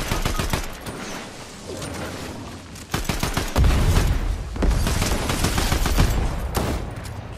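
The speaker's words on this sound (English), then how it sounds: "He's got a shotgun." Fortnite shotgun gunfire mixed with rapid bursts of other weapons, loud sharp cracks and rattling volleys, the heaviest blasts clustered in the second half.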